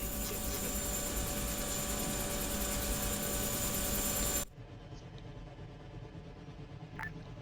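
Military helicopter from the Arma 3 video game: a steady, loud rotor and engine drone for about four and a half seconds that abruptly cuts to a much quieter, muffled hum.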